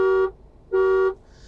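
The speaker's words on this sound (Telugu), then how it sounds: "సో హార్న్ కూడా ఇలాగే స్మూత్గా అప్లై అవుతుంది." Two short, loud honks from the horn of a Tata Sierra diesel car, each a steady bright tone about a third of a second long, separated by a brief pause.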